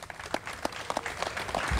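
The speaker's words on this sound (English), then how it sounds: "So please give a big round of applause for our Governor, John Carney." Outdoor audience at a riverfront bridge dedication applauding a governor, scattered, uneven claps of moderate loudness that thicken toward the end rather than forming a dense roar.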